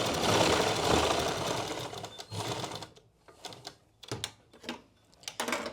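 Sewing machine stitching a suit garment, running in several bursts of rapid mechanical whirring separated by brief pauses, close and fairly loud with no talking.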